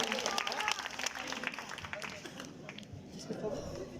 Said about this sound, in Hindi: एक बार जोरदार तालियां हो जाए पूरे पोस्टमार्टम मुशायरा टीम के लिए।